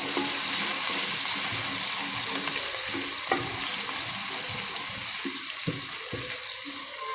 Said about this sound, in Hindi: अब इसमें जिंजर गार्लिक का पेस्ट डालेंगे। इसको अच्छे तरीके से मिक्स कर लें।